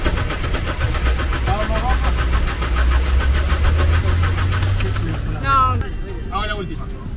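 Car engine running with a steady mid-pitched hum that rises in revs, then cuts out near the end, while people talk briefly over it.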